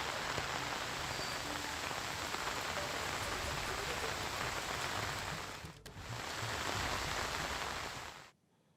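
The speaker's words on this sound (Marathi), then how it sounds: "मुंबई पश्चिम आणि उपनगरामध्ये सध्या पावसाचा जोर वाढल्याचं चित्र आहे" Heavy rain pours over Mumbai's western suburbs, a dense, steady hiss of drops on surfaces that dips briefly midway, then swells again before stopping suddenly at the end.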